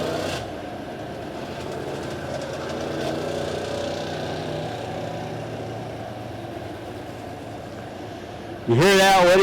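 Late model dirt track race cars idling together at Lebanon Midway Speedway before a heat race, a steady low engine drone held for several seconds, ending in a sudden louder rising rev.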